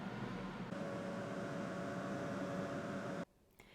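A Ninja Crispi Pro air fryer cooking Brussels sprouts gives a steady whirring fan hum with a faint tonal whine, then cuts off abruptly near the end.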